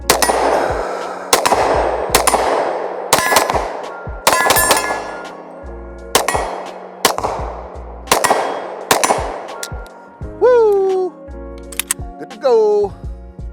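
Sig P226 pistol and ARex 01 pistol fired at targets at close range, sharp loud reports in uneven bursts of shots with ringing echoes, several metallic clangs near the end, people talking between strings.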